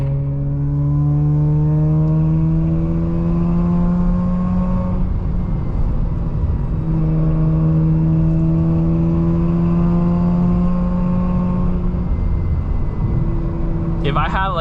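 A Mazda RX8 rotary engine on a mountain road climbs in long, steady revving pulls and drops back between gears. It is loud and close from inside the car, with a short burst of speech near the end.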